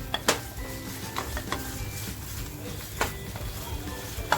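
A spoon stirs and sautés a garlic surmai fish masala of onion and spices in a pan over low flame, with soft continuous scraping and a faint sizzle plus a few sharper metal clinks, close by.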